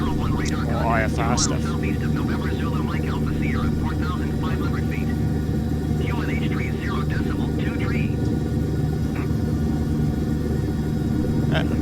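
Helicopter in Microsoft Flight Simulator 2020 cruising over the Mangamaire Saddle, a steady loud engine and rotor drone running throughout beneath continuous talking.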